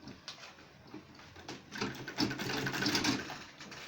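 Sewing machine stitching a 3-inch seam on an insulated lunch bag, a steady close-up mechanical whir that builds and holds louder through the second half.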